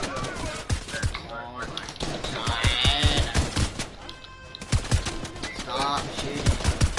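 Rapid video game gunfire crackles in sharp bursts and repeated single shots, loud and close, while excited voices talk over the shooting.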